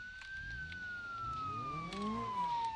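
A police car siren in the BeamNG driving game wails in a steady, slowly falling tone, loud and continuous, with engine and road rumble underneath and no talk.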